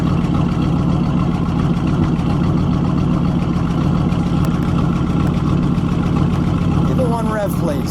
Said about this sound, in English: Listen to that idle back there